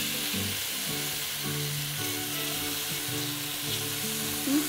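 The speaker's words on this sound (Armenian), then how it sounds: "Մի փոքր էլ խառնում ենք մեր ձուկինին կամ թթմիկը" Zucchini sizzles and fries in a pan while being stirred, with a steady hiss and soft scraping and clatter from the stirring throughout.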